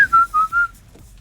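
A person whistles a short tune, three clear sustained notes in a quick rising-and-falling phrase, close and fairly loud, followed by near silence.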